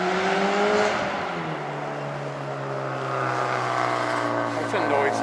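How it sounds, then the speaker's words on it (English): A noisy car passes along a city street in the downtown Canary District, a loud engine drone and rumble that holds steady and then swells. A person talks over it. "That's a noisy car."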